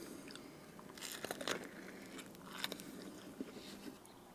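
Homemade crunch wraps are bitten and chewed up close, giving a run of crisp crunches and smaller crackling chews spread across several seconds, with no talking.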